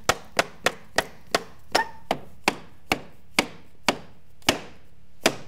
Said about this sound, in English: I got a rubber hammer or a mallet